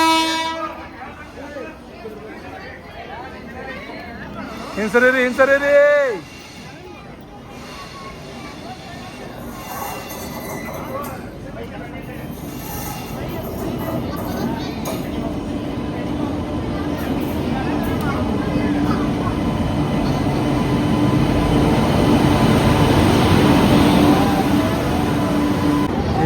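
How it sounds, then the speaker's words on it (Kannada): A train rolls into a station with a long horn blast early on, followed by growing rumble and clatter of wagons as it nears, with people talking nearby. "ಬಂತು ನೋಡ್ರಿ ಟ್ರೈನ್"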